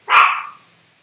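A single sharp dog bark close by, loud and abrupt, fading out quickly.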